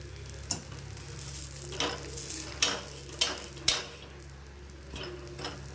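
Dosa batter frying on a hot pan gives a steady close sizzle, broken by a few sharp scrapes and taps from a spatula. No one speaks.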